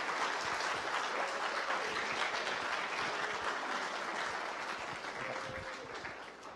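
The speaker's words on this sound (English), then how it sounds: "let's give them another round of applause for these young entrepreneurs" Sustained audience applause for students at a middle and high school math-science-technology institute final ceremony, steady dense clapping filling the hall throughout and tapering slightly toward the end.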